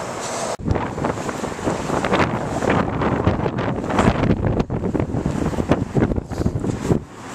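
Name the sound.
wind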